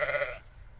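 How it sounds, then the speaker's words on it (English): Sheep bleating once, a short, close, wavering baa that quickly fades into quiet, with no talking over it. "The sheep said, "Baa,"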